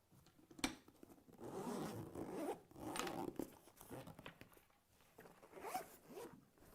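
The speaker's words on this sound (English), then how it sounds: "LifeBase 3 can be opened with a zipper for access to all necessary components." A zipper pulled open around the LifeBase 3 carrying case for a MEDUMAT Easy ventilator system, several rasping runs with short pauses between them, close and clear.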